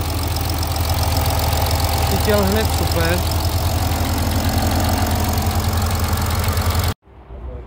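A warmed-up Suzuki SX4 engine idles with a steady low rumble and even pulsing, loud and close, while someone speaks over it before the sound cuts off abruptly near the end.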